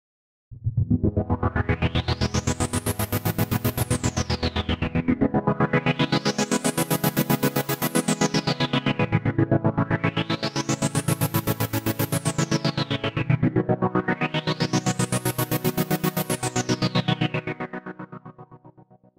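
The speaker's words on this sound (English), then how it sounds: "this time with the noise gate applied to the synth part, you'll hear the difference" A synth part runs through a sidechained noise gate, giving a steady chopped, pulsing rhythm under four long rising-and-falling filter sweeps, loud and continuous with no talk, fading out at the end.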